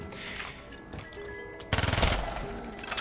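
Submachine gun fire in a video game, a dense rattling burst arriving near the middle and trailing off, set against game background sound with no talking.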